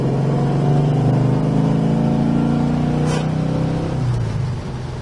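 A 1969 Dodge Charger SE accelerates hard through its first gears, a loud, close V8 roar rising steadily in pitch with a brief shift break near the end, no talk.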